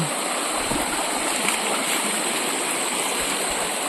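Steady, full rush of a flowing river near Jacuzzi Falls, continuous broadband water noise close by, with no other sounds standing out.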